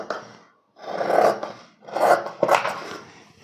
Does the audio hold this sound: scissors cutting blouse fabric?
yes